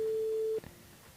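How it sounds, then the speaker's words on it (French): Telephone tone on a call, a single steady electronic beep held for about half a second before cutting off, followed by faint room noise. "Ah, ça sonne."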